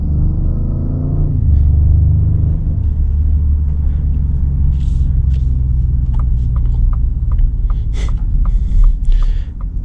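A Ford F-150 Lariat pickup with a 3.5-liter V6 pulling away from a stop, heard from inside the cab as a loud, deep engine rumble that rises in pitch through the gears and then settles into a steady drone.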